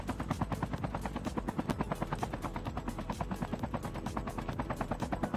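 Helicopter in the mobile shooter Call of Duty Mobile, a steady rapid rotor chop thudding close and loud throughout, with faint gunfire-like cracks mixed in.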